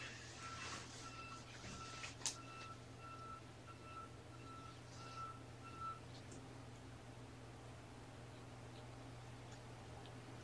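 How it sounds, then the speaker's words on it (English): Truck reversing beeps repeat steadily down the street, faint and distant over a constant low hum, with no talking. "Somebody's backing up their truck."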